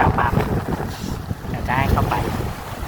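Strong wind buffeting a small boat at sea while fishing near rocky outcrops, a steady loud roar of gusts across the microphone with faint water sounds, and a voice briefly speaking.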